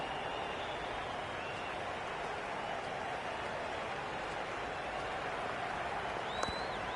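Crowd cheering and applause in the cricket video game Cricket 26, a dense, even roar of a stadium crowd at a distance, steady and faint with no distinct claps standing out.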